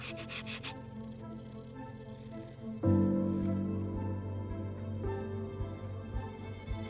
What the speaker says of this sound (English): we're using Scotch-Brite to clean it up